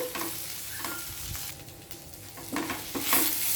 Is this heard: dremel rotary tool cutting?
no